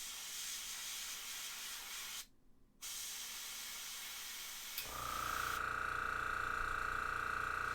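An airbrush sprays paint onto a McFarlane Toys Hellblaster Primaris marine model, giving a steady, close hiss that breaks briefly and resumes; after a small click the spray turns fuller and louder with a faint higher tone.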